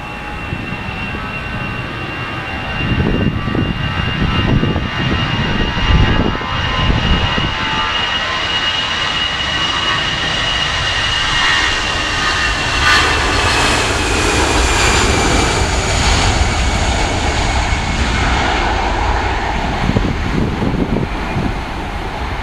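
A fixed-wing airplane's engines roar steadily at full takeoff power, a loud, sustained rumble with a whining tone that climbs gradually as the aircraft accelerates, with no voices over it.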